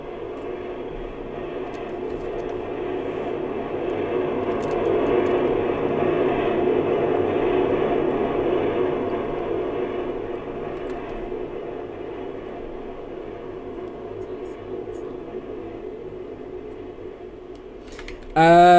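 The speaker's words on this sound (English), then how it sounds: "TSR-2, full afterburner takeoff now." A TSR-2 jet takes off on full afterburner in the game Aeronautica, giving a steady broadband roar that swells, holds and slowly eases over several seconds. It is moderately loud and unbroken, and a sharp burst cuts in at the very end.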